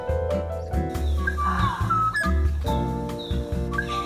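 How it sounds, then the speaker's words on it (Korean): Birds sing at Deoksugung Palace in central Seoul, short bright chirps and whistles over a busy background of other city noise, moderately close. "새소리가 너무 좋은데요."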